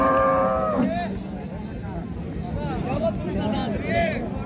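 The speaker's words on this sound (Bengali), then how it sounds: "আর এইটা গাভী" A dairy cow moos loudly several times at a busy cattle market in Kurigram, with people talking nearby throughout.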